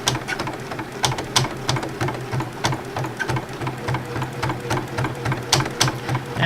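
Sewing machine doing free-motion thread painting, rapid rhythmic stitching clatter with short pauses and bursts, close and steady.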